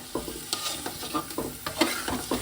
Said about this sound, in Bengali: এটাকে দিয়ে এবার ভালো করে কষাবো এই কষানোটাই মেন যতক্ষণ না তেলটা ছাড়বে ততক্ষণ কষিয়ে যেতে হবে